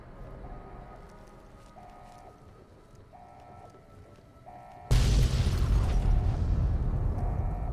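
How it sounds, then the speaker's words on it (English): In the video game Fallout: New Vegas, at the Ashton missile silo, a quiet stretch with soft repeating electronic beeps suddenly gives way to a loud explosion that keeps roaring and rumbling heavily to the end. "Cue the explosions."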